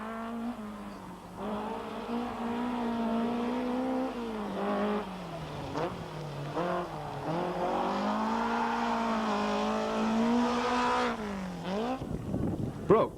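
A Nissan rally car at the 1985 Cyprus Rally labours over a rough road, its engine note rising and falling through gear changes and revving hard, loud and close throughout, with a sharp burst of noise at the end.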